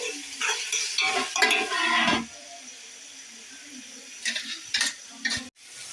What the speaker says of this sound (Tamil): இது நல்லா ஒரு அஞ்சு நிமிஷம் நல்லா வதங்கட்டும் மூடி போட்டு வதக்கிக்கலாம்